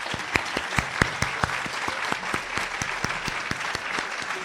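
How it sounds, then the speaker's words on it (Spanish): Audience applause for a guest at a reading talk, a modest group clapping with distinct, rhythmic individual hand claps standing out over a softer patter, sustained at moderate distance. "les pido un aplauso para Cuca"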